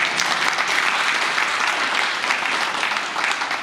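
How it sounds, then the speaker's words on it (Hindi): Applause from the audience at an alumni association's annual general body meeting, steady, even clapping from many hands throughout, fairly loud and close, without speech. "थोड़ी ताली बजा दो।"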